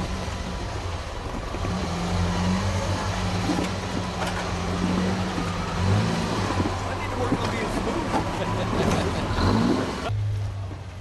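A Toyota off-road rig crawls uphill in Johnson Valley, its engine droning and revving in steady low pulses with rising surges, close to the microphone, with wind and rough rumble throughout.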